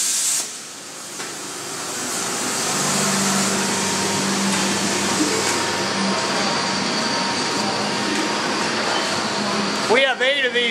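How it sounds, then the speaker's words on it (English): Steady hissing buzz of TIG welding on an 8-inch Schedule 80 pipe in a college welding shop, a continuous close arc sound running throughout before a brief clatter at the end. "TIG welding an 8-inch Schedule 80 pipe."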